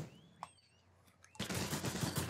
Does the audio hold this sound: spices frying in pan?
no